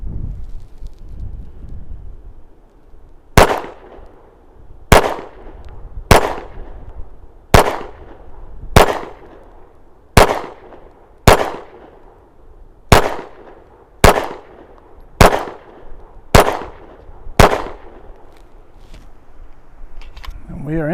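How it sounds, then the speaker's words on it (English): An FN 509 CC Edge 9mm pistol fires thirteen loud, sharp shots at a steady pace of about one per second, each with a short decaying echo, over light outdoor wind noise. "It's really a nice shooting pistol."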